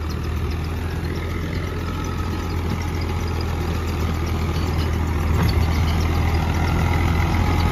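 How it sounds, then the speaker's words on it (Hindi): A single-clutch farm tractor with a rotavator sits running outdoors, its diesel engine holding a steady, loud low-pitched idle throughout with no talk over it. "और सिंगल क्लच वाला ट्रैक्टर है भाई"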